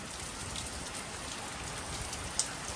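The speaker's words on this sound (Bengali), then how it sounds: "বেশ জোরে বৃষ্টিটা নেমেছে" Heavy rain pours down outside, a dense, even hiss of drops on surfaces that runs without a break and stays close and loud, with one brief small knock near the end and no voices.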